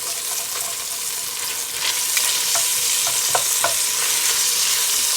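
A plastic utensil scrapes the bottom of a pot holding a venison roast, several short scraping strokes over a loud, steady sizzle, close and without talk.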